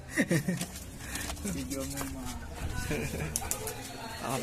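Pigeons coo in low, throaty bursts at a Philippine street pigeon race, most clearly near the start, over a steady murmur of nearby voices and crowd noise.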